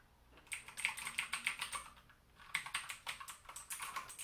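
Rapid clicky typing on a Redragon K580 mechanical keyboard with blue switches, two bursts of crisp, close key clacks separated by a short pause, with no talking.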